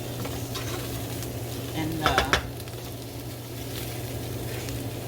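Chop suey frying in a pan with a steady low sizzle throughout, interrupted midway by a brief cluster of scraping stirs and clinks; a voice says a single word.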